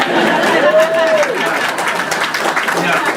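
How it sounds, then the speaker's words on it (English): An indoor crowd applauds at a presentation, a dense wash of clapping with a brief spoken voice rising over it. "Applause, please."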